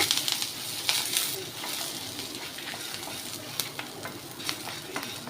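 Dried red chillies fry in a pan for guava chutney, with a steady soft sizzle and intermittent scraping stir strokes throughout.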